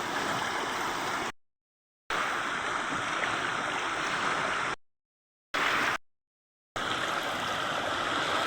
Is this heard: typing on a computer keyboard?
no